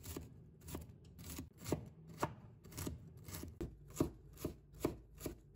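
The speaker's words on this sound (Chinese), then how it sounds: "最后把胡萝卜改刀切成小碎丁。" A knife chopping carrot into small dice on a board, a dozen or so sharp, separate chops in an uneven rhythm, close and clear over a quiet background.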